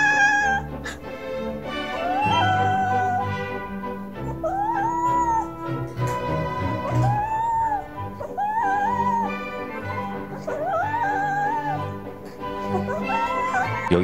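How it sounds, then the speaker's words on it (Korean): A cat lets out repeated drawn-out, wavering yowls with rising and falling pitch during claw trimming, close by, separated by short pauses and faint handling noise. "발톱을 깎다 보면 싫은 소리를 좀 길게 내는 경우가 많은데"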